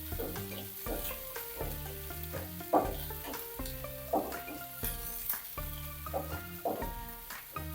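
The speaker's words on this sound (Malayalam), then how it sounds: "ഇതിനകത്തോട്ട് ഒരു തണ്ട് കറിവേപ്പില ഇട്ട് കൊടുത്തേ. ഇതൊട്ട് ഈ ഉണക്കച്ചെമ്മീനില്ലേ അത് ഇട്ട് കൊടുക്കാം" Dried shrimp and a sprig of curry leaves sizzle and crackle softly in hot oil, the frying heard faintly under steady background music with occasional stirring clicks.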